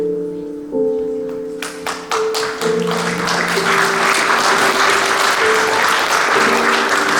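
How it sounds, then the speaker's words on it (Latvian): An audience applauds at a school Christmas concert. Loud, dense clapping swells and fills the space, with a sustained musical chord ringing at the start and fading under the applause. "Skaļāks aplauss Ziemassvētkiem!"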